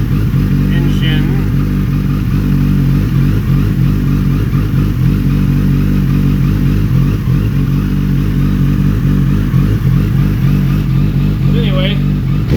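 A plug-and-play Maxx ECU on a turbocharged Gen1 Suzuki Hayabusa, the engine running with a loud, steady, throbbing idle and slight rises in revs, heard close throughout with a person talking over it.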